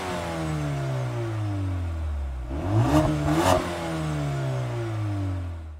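A Mercedes-Benz A35 AMG engine revs hard, the pitch sweeping upward then falling back, with a sharp burst of exhaust crackle at the peak before settling to a steady idle, loud and close.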